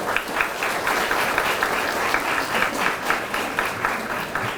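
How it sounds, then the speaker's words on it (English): Applause for a group of young women at a JROTC military ball, a full, steady burst of many hands clapping at close range that holds evenly throughout. "So please give these amazing young ladies a round of applause."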